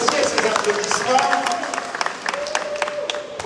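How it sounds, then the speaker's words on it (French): An audience applauds at a junior cycling award ceremony in Martinique, a broad patter of clapping running under someone talking into a microphone. "Axel Villerance, que je vous demande d'applaudir."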